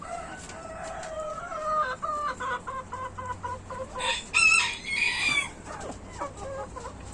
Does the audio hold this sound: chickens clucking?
yes